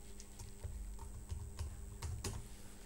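A computer keyboard is typed on to enter a folder name, a quick run of light, clicky keystrokes close by, uneven in rhythm and fairly quiet, with no one talking.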